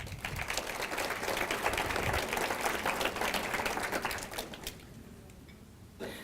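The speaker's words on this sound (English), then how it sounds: "another round of applause for them." An audience at an annual volunteer breakfast in Farmington Hills applauds with dense, moderately distant clapping that holds steady, then thins out and fades over the last two seconds.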